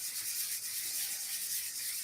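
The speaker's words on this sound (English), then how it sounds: "Detail sanding." Detail sanding by hand along an inside edge, a steady continuous hiss of abrasive rubbing with no pauses, close and fairly quiet, with no voices.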